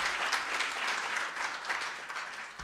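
Audience applause at a university research symposium in a senate hall, a steady round of clapping from a large crowd that holds evenly for a few seconds before easing off.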